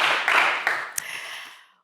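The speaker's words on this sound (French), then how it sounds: "vous avez fait de votre mieux, on vous applaudit" A French game show studio audience applauds a contestant, a burst of clapping that starts at full strength and then thins and fades to silence within a couple of seconds.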